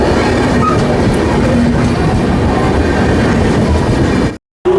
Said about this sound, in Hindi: वही लोकल है ये, रायगढ़ बिलासपुर मेमू लोकल